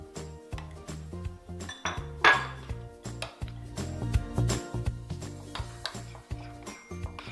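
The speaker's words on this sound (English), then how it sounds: "Mix this together" Salad dressing ingredients with salt, pepper and grated cheese being stirred and whisked in a bowl, a steady run of quick clinking utensil strokes against the dish, close and fairly quiet with no talking.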